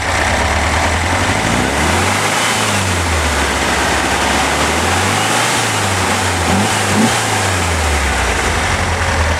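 A 1965 Porsche 356C engine with a sport exhaust revs up and down several times while accelerating, its pitch rising and falling in broad sweeps over a steady, loud mechanical drone.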